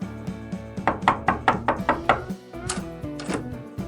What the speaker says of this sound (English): His horror is interrupted by a knock on the door.